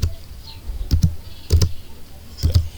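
Keys on a computer keyboard are tapped in short clustered bursts, a few quick clicks at a time with brief pauses between, close and moderately loud.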